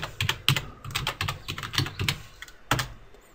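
Brisk typing on a computer keyboard, a close, clear run of clicking keystrokes with one final heavier tap after a brief pause.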